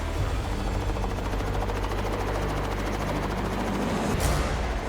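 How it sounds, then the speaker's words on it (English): A helicopter's rotor thumps steadily and loudly nearby, a continuous low beating roar with engine whine that holds for the whole stretch. "the helicopter needs to come back for the co-pilot"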